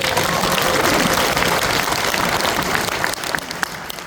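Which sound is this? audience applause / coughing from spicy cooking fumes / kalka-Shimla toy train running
audience applause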